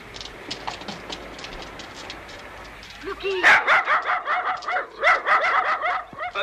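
Several dogs barking in quick bursts, starting after a stretch of quieter background with voices and growing loud and close, with yips mixed in.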